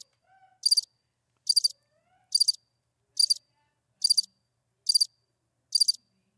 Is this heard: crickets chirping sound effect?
yes